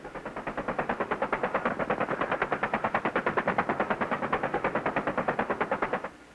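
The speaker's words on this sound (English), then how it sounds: "Cobras respond with suppressive fire to allow the ground unit to get by" Sustained machine gun fire from AH-1 Cobra attack helicopters, a rapid, even stream of loud shots lasting about six seconds before stopping abruptly.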